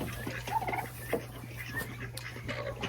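Young Narragansett turkeys make soft, scattered peeps and brief gobbling chirps, faint and close, over a low steady hum.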